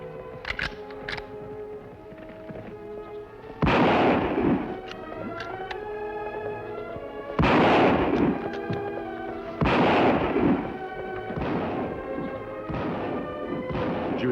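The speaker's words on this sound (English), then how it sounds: "Shots come from that direction, Kimasabi." Several sharp gunshots ring out in a 1953 western TV episode, spaced apart and echoing loudly over a sustained musical score.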